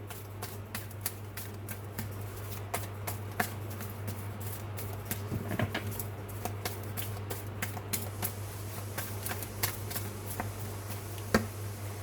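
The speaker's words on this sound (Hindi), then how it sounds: "पहला कार्ड, लेकिन मुझे शफल करना है अभी।" Tarot cards being shuffled by hand, a steady run of soft papery riffles and taps repeating through the whole stretch over a constant low hum, close and fairly quiet with no talking.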